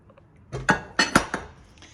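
A spoon scrapes and clinks against a dish while vegetables and meat are stirred together for a baked meat stew, four or five quick close clattering strokes in quick succession.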